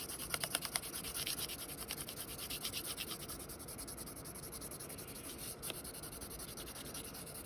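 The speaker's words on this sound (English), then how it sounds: "But the pencil really should just be laying down on the paper." A pencil laid flat shading gray across paper, a soft continuous rubbing scratch with quick back-and-forth strokes at first, then a steady even hiss, close and quiet.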